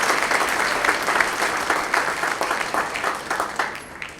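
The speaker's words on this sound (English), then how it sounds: "Please give him a round of applause." An audience at a school's 7th and 8th grade winter band concert breaks into dense, steady clapping that carries on throughout before starting to taper off at the end.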